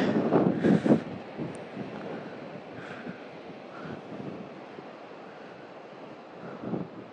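Wind gusts against the microphone on a boat at sea, with soft rumbling buffets and a few stronger bursts over a low wash of water, no voices.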